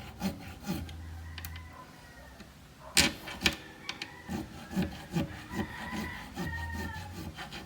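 A guitar nut string slot is being cut with a file, giving a series of short, quiet rasping strokes in an uneven rhythm, close up, with brief pauses between them and no speech.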